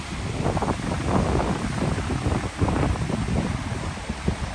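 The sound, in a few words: ocean waves on Oregon beach with wind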